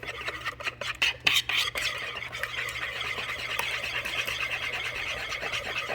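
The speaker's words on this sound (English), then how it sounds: "Just whisk it real good." Cake batter with vanilla is whisked in a bowl for an orange upside-down stovetop cake, with a few sharp clinks early on followed by a steady, moderately loud scraping whir.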